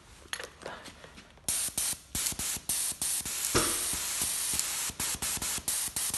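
Apollo 40 paint spraying pump firing paint through a small nozzle, loud close hissing bursts in a rapid repeated on-off rhythm with a few longer sprays, faint voices in the background.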